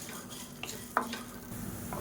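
Curry leaves and spices stirred and dry-roasted in a pan over a medium flame, a soft continuous sizzle with faint scraping strokes and one sharper clink near the middle, close and fairly quiet.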